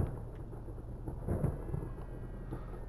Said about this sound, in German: Da, Blitz und Donner gibt's auch.